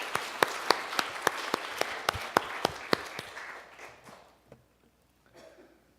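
In a church, a congregation applauds the choir with a thin run of sharp, distinct hand claps in a steady quick rhythm, heard fairly close, that thins out and fades into near quiet with a few last stray claps.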